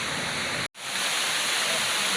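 Jungle waterfall rushing as a loud, constant broadband roar, briefly cut for an instant before resuming unchanged and steady, with no voices.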